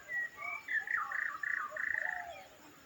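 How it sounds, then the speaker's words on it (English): Outdoors in the Sri Lankan bush, a white-rumped shama sings a run of rich, varied whistled notes and trills, clear and near over faint insect hiss, with no voices. "It's the call of the white-rumped shama."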